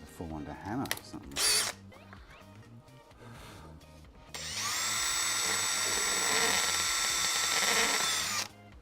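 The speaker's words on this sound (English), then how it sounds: "It wants me to drill 3 holes to screw it in" A power drill bores holes to screw something in. A brief stretch of talk and handling noise comes first, then the drill whines loudly and steadily for about four seconds up close before stopping.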